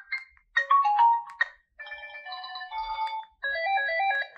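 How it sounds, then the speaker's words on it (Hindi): Ringtone melody from an E-Tachi Seven Star budget dual-SIM feature phone, played alone in three separate tuneful phrases with short gaps, moderately loud but not especially strong. "रिंगटोन्स की आवाज़ ठीक है लेकिन वॉल्यूम के लिहाज से रिंगटोन्स की जो आवाज़ है वो तेज़ नहीं है"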